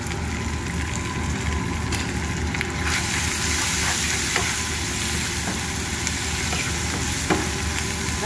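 Kibbeh frying in a pan with spices and salt, a steady close sizzle with crackling bursts and a few sharp stirring clicks against the pan, continuous and fairly loud.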